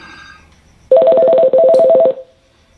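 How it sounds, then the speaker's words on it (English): A telephone rings with an incoming call, two loud, close electronic ring bursts in succession and then silence. "I think that's Wayne Poe calling right now"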